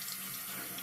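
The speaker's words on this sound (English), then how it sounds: "We'll do a little bit of water here." A bathroom sink tap runs steadily during a shave, a constant close hiss of flowing water with no voices.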